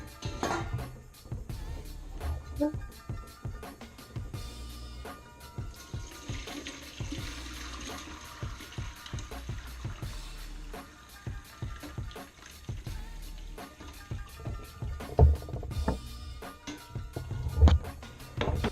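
Turkey bone broth pours through a large strainer and splashes steadily into a stainless steel bowl for a long stretch, with occasional clinks and knocks of metal.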